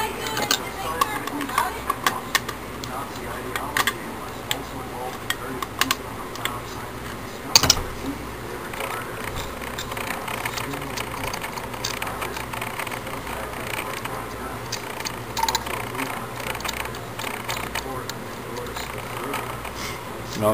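A 10SI one-wire self-exciting alternator being taken apart by hand, giving off a steady run of close metallic clicks, ticks and ratchet-like rattles with a sharp knock partway through.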